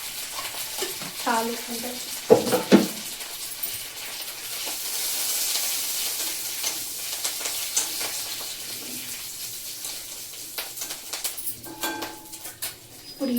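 Mustard seeds and dried red chillies sizzle in hot oil for tempering, a close frying hiss with scattered sharp pops that swells midway. A brief voice is heard, and pigeons coo in the background.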